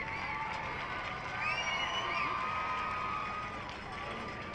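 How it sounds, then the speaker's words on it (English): Crowd noise at a high school varsity football game as the 2023 homecoming king and queen are honored, a steady roar of cheering and shouts that swells in the middle and carries at a distance. "Let's give another round of applause for our 2023 homecoming king and queen."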